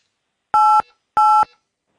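Two keypad tones from a phone entering a home number into an automated line, each a steady dual beep of about a quarter second, evenly spaced, clear and alone.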